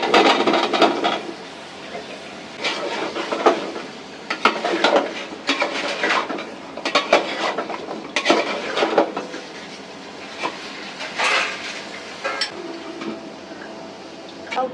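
Bottle gourd is added to a pan of cooked spices and stirred, with repeated clattering scrapes of a utensil against the pan in uneven bursts over a steady low background.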